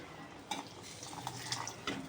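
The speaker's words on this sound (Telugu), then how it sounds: "ఇంకా స్టవ్ ఆఫ్ చేసేసి కాస్తంత ఇందులో వాటర్ వేసుకుందాం" Water pours into a simmering roasted-brinjal tamarind stew after the stove is switched off, a soft close splash and trickle with a few brighter spatters.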